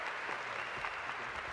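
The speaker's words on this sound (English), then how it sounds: "that was a lot of applause for the first loser" Audience at a 2019 Leander high school graduation applauds to welcome the salutatorian, a steady wash of clapping from a large crowd that fills the moment without any voices on top.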